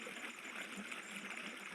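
Water drained from a farm pond flows among coconut trees, a steady, continuous rushing gurgle heard close and alone.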